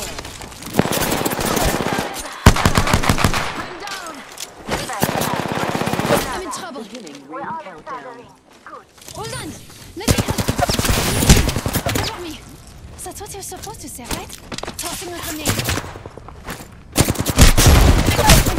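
Automatic weapon fire in the video game Apex Legends, with loud rapid bursts and sustained volleys, brief quieter lulls, then renewed heavy shooting near the end, with a voice speaking over parts of it.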